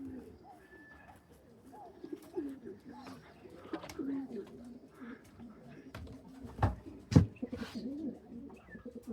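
A three-year-old dark checker racing pigeon hen arriving home at the loft after a long race from Quilpie, with soft cooing and bird calls amid low voices and rustling, plus a couple of sharp close thumps near the end.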